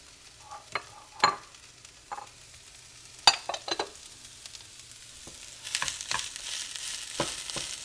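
Rice frying in a pan with a soft sizzle, broken by sharp scrapes and knocks of stirring, growing denser and hissier toward the end.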